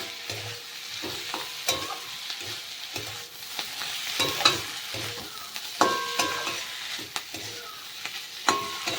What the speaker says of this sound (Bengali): ধনে পাতা দিয়ে মশলাটাকে ভালো করে মিশিয়ে নেব